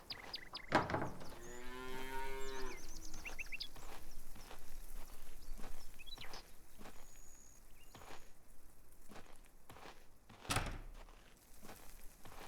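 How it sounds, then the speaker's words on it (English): Cattle in the Farmers Dynasty farming game let out one drawn-out moo, followed by scattered soft thunks and footstep-like knocks against a quiet background. "There's our cows."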